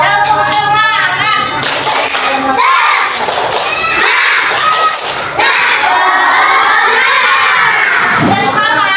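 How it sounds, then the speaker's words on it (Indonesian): Children in a classroom do a spirited clapping chant, loud and continuous, with shouting, cheering and rhythmic claps from the whole group. "Tepuk semangat."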